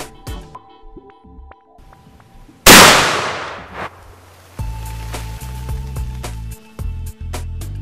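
A round fired into a balloon of oobleck, a cornstarch non-Newtonian fluid, gives one sudden loud burst. A roaring, splattering wash follows and decays over about a second, then a steadier low rumbling noise.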